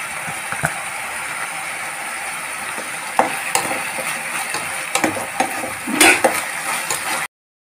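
Onions and green chili fry in a hot pan, giving a steady sizzle with scraping and stirring clatter from a spoon against the metal. A brief louder stir comes near the end.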